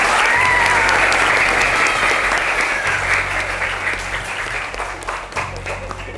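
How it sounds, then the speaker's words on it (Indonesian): Children at a Qur'an learning center applaud the first-place winners of a group game, loud, dense crowd clapping that swells and then eases off, with some cheering voices mixed in. "Ya, ini juara pertama, tepuk tangannya yang lebih meriah lagi ya."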